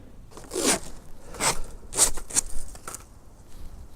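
Strip of tape pulled off a roll and pressed into place while marking headlight aim for a Saturn ION Quad Coupe: a few short, sharp ripping bursts in close succession, fairly near, no talking.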